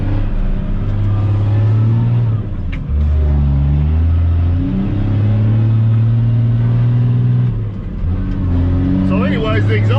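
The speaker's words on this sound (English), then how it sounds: "The Mac sprung an exhaust leak on cylinder number 6 a week or so ago" A Mack truck engine idles and revs with a rough, deep rumble from an exhaust leak at cylinder number six, loud and close, with pitch rising and falling as it throttles, and people talking over it.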